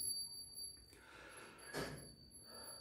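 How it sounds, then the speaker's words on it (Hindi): A small bell rings faintly for the evening puja, heard as a thin, sustained ringing tone with a brighter strike partway through, set against a quiet room. "घंटी बज रही है, ध्यान भटक रहा है"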